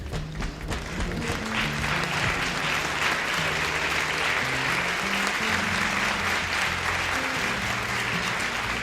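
Sustained audience applause fills the whole stretch at steady loudness, dense and continuous clapping from a large crowd with a musical tone running low underneath.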